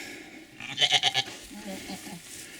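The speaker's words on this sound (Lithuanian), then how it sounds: "Kokios gražios avys." A single short, quavering bleat from a sheep on a small farm rings out nearby, followed by quieter murmuring and faint background sound.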